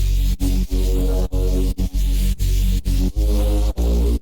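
Electronic dance music plays loudly with a heavy bass and rhythmic gaps where the sound cuts out briefly, like chopped edits in a drop.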